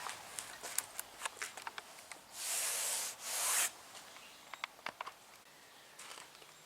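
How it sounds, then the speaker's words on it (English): Hand sanding across a cracked fiberglass dashboard from a G-body Monte Carlo, with close scratchy rubbing strokes and a sustained louder stretch of sanding in the middle, with no talking. "then I also start sanding this down,"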